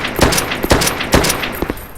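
Bursts of gunfire from a Unity first-person shooter, four sharp shots spaced roughly half a second apart with ringing tails, loud and close with no talking.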